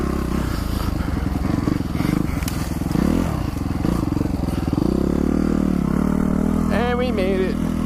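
A dirt bike rides along a woods trail, its engine buzzing and revving steadily up close with scraping and clattering, while people talk over it.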